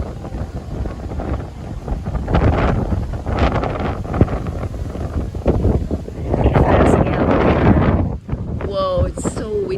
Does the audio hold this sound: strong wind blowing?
yes